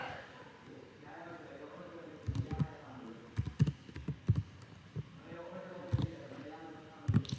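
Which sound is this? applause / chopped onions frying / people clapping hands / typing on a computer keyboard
typing on a computer keyboard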